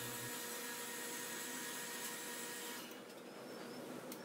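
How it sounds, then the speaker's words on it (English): A bandsaw cutting through rusty square steel tubing, a steady continuous whine and grind close by that eases slightly near the end, with no talking. "back to the bandsaw to make our final cut."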